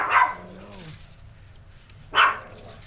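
Yorkie puppies let out two sharp, high barks about two seconds apart, the first trailing into a short whine, close by in a quiet room.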